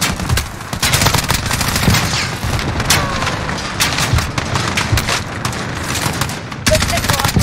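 Gunfire in Call of Duty Modern Warfare, loud rapid bursts of automatic weapons and sharp shots repeating close by throughout, with voices calling out between them.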